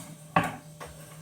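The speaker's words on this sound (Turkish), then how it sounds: "Şimdi bu balıklarımızı güzelce" A single soft clatter of pieces of bonito fish set down in a metal pot, followed by a fainter knock, in an otherwise quiet kitchen.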